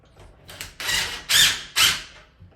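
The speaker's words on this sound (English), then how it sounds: "Blast the screws in there." Screws are driven into a door lock's latch slide with a power driver, giving several short whirring, ratcheting bursts that grow louder, close up and with no talking.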